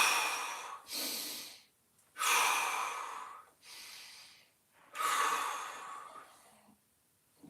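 Deep breaths during a floor mobility exercise: three long, audible inhales and exhales, each a few seconds long with short pauses between them, close and clear with no talking.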